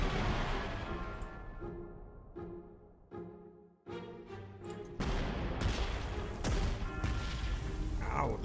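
Artillery fire in the Panzer Corps 2 war strategy game, a run of separate booming shots and thuds, some quiet and some loud, with a heavier barrage in the last seconds and faint voices now and then.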